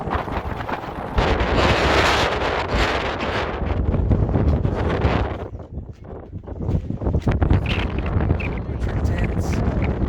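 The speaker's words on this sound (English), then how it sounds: "We're gonna try to get some shelter because it's windy and we want to eat." Strong wind gusts roar across a microphone on the San Gorgonio mountain trail via the South Fork and Dollar Lake route, loud, buffeting bursts that briefly ease before surging again, with faint voices underneath.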